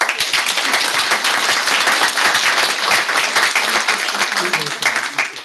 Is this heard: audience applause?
yes